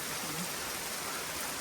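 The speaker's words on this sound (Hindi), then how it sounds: "दोपहर में हो रही है जी बारिश" Rain falls in forested hills along a bike trail, a soft, steady hiss of drops on foliage and ground at low volume, with no one speaking.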